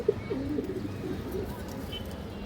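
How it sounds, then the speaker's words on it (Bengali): A khaki male pigeon coos softly, a few low, quiet coos near the start over faint background ambience. "একটা খাকি নর কবুতর"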